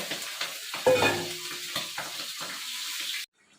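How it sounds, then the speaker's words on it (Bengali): Fish frying in hot oil in a home kitchen, a steady close sizzle and crackle with a louder spitting burst near the start, cutting off abruptly at the end. "তো তার জন্য মাছটাকে আগে ভেজে নিই।"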